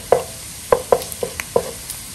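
Onion sautés in a pan for sotanghon guisado, with five or six distinct scraping stirs of a utensil over a quiet sizzle, close and fairly loud, no talking.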